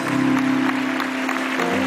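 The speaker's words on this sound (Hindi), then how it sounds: "तालियां बजनी चाहिए।" A studio audience on a Pakistani talk show breaks into applause, a steady wash of clapping under a low hum, lasting just under two seconds.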